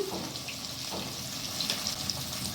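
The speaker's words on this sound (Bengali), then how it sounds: "সামান্য একটু জল দিয়ে দেবো" A little water is poured into a cooking pan holding ground spices for a vegetarian jackfruit curry, a soft continuous splashing hiss lasting a couple of seconds.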